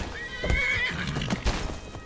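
A horse whinnies in a PS5 Skyrim game, a clear rising neigh followed by hoof clip-clops and thuds of combat, fairly loud and close.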